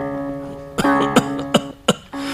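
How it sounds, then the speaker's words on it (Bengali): Several sharp, separate coughs from a man in a Bengali radio drama about the poet Michael Madhusudan, breaking through a sustained tonal musical background, four bursts spaced about every third of a second to half second. "তোমার কাশিটা বেড়েছে"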